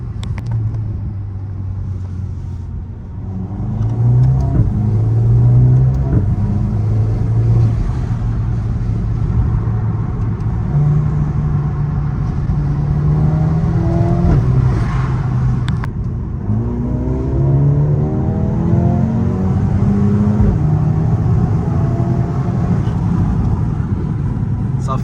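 A Mercedes-AMG CLA 45 S engine revving and accelerating in repeated sweeping pulls, a deep rumble rising and falling, loud and close throughout, while someone talks over it.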